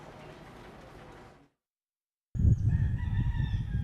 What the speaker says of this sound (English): Roosters can be seen roaming everywhere.